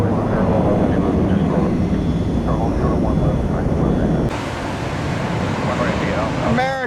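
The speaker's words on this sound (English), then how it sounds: "Airbus 321 blastoff." Steady broadband roar of an American Airlines Airbus A321 jet taking off from Tampa at sunrise, loud and continuous, with some background voices and a quieter stretch near the end.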